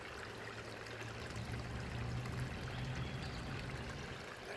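Water gushes steadily from a pipe out of the top pond into a garden stream, a continuous close pour with a low rumbling hum underneath and no voices.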